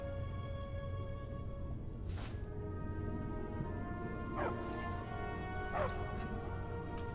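A dog in the video game Skyrim lets out a few short barks or yips over a steady background drone of game ambience, moderately faint.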